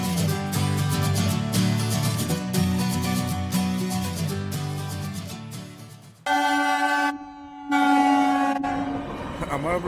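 At a small railway level crossing a train rolls past loudly with rhythmic wheel clatter, then its horn blares in long sustained blasts near the end.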